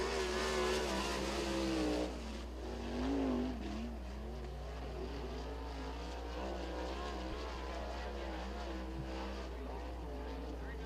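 A single race car lapping Lincoln Speedway during time trials, its engine wailing and revving in waves as it circles the track, fairly faint over a steady low hum.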